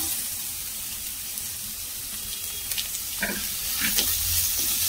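Chopped onion and capsicum fry in a pan with a steady close sizzle, broken by a few sharp clicks and scraping stirs toward the end, and no one talking.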